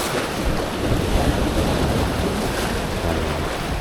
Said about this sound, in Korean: 파도가 조금 칩니다.